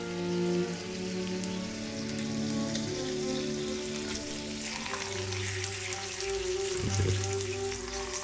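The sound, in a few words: bacon frying in a pan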